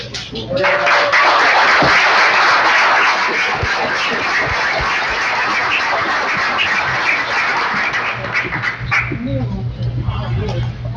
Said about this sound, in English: we're gonna keep those hands clapping